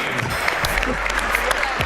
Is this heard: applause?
yes